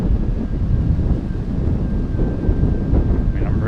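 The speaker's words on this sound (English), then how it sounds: "now I have a headwind" Strong headwind buffets the microphone while riding a cheap $200 electric unicycle outdoors, a loud continuous low rumbling roar with a faint steady high whine running through it.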